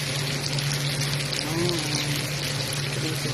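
Tofu frying in hot oil for a tofu and water spinach dish gives a steady, even hiss and crackle that fills the whole clip with no talk over it.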